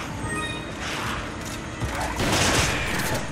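Rapid gunfire in Resident Evil 5 bursts as a dense string of shots amid chaotic combat noise, loud and continuous, building slightly toward the end.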